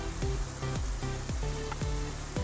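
Chicken mince with crushed red chilli, salt and black pepper sizzles steadily in a hot pan, with repeated scraping strokes of a spatula stirring it every half second or so, close and fairly loud, no talk.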